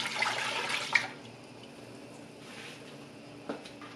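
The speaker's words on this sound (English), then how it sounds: "in my big pot, I am going to start putting all my ingredients for the brine. And I have one quart of white vinegar going in." A quart of white vinegar pours from a container into a big pot for pickling brine, a steady close splashing stream for about a second that fades to a soft trickle, with a small clink later.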